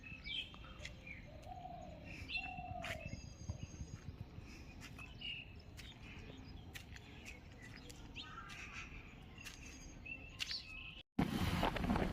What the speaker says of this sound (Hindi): चिड़ियों की चहचहाहट आपको दिख रहा होगा।